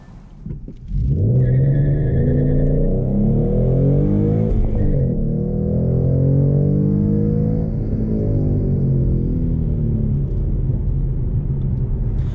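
A car fitted with shorty headers launches hard from 0 to 60, its engine swelling to a loud, sustained roar and climbing through the revs after a quiet idle, with no talk.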